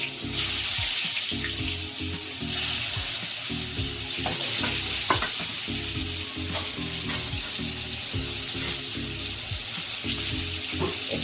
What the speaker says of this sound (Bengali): এবারে তেল গরম হয়ে গেছে, আমি বেগুনগুলো